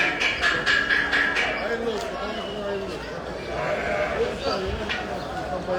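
Lambs and sheep bleating repeatedly at the crowded Akhisar livestock market before Kurban Bayramı, under steady talk and background bustle.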